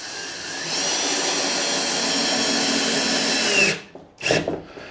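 A power drill drives construction screws with torx heads while a custom wooden entry door is built for a box truck, a loud steady whirring motor run for several seconds that winds down, then a short second burst.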